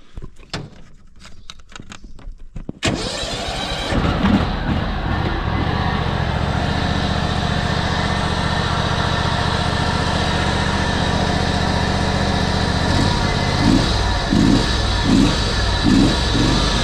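A small ride-on mower engine with hydrostatic drive sputters, catches and starts, then settles into a steady loud idle with a throbbing rumble.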